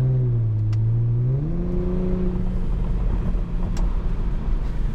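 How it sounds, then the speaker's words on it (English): A car fitted with a Speed Culture Studios custom exhaust revs up close and loud, its engine note climbing then settling into a steady rumbling drone. "I'm loving this exhaust, guys"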